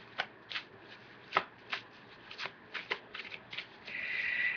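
A Healing Angel Oracle card deck being shuffled up close, a string of quick riffling bursts at an irregular pace, ending in a longer continuous flutter of cards.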